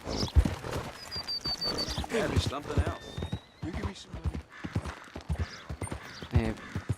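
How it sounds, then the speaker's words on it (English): Horse hooves clip-clopping with whinnies while riding in the Red Dead Redemption 2 video game, heard under steady talking by a player. "Estoy en caballo, sí."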